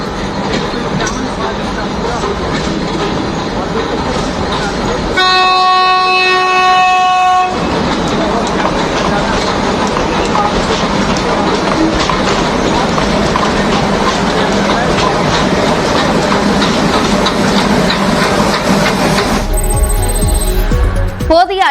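A Nilgiri Mountain Railway train between Mettupalayam and Ooty rumbles steadily along the tracks with clattering wheels, a long horn blast sounding partway through and another tone near the end.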